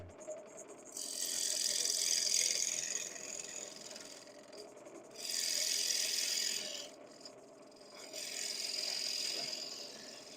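A quarter-inch skew chisel cuts a curve into wood spinning on a lathe, giving three hissing, scraping passes separated by short pauses, close and fairly quiet, with a faint motor hum underneath and no talk.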